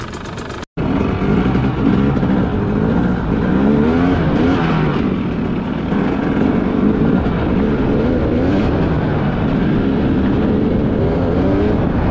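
An enduro motorcycle pulls away for a ride, its engine revving loud and close and holding a steady, rough roar throughout after a brief cutout at the start.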